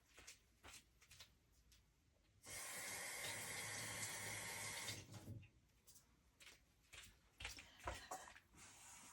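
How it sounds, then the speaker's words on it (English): A sink tap runs water in a steady rushing stream for about three seconds as hands are rinsed of ink, framed by quieter clinks and small movements nearby, with no speech. "I have a sink here so I can wipe my fingers"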